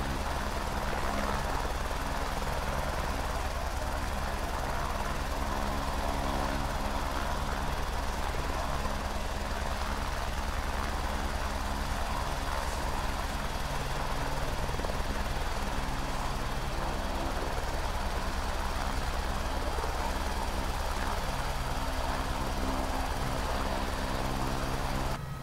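An H125 helicopter engine in Microsoft Flight Simulator gives a steady, dense turbine whine and rotor drone that holds at a constant level throughout, loud and continuous with no break.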